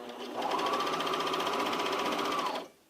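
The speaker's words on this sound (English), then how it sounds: "I'm sewing on top of the fabric" Juki MO2000QVP serger sewing fabric for a shirt, a steady fast mechanical whirring and stitching that runs for a couple of seconds, then stops.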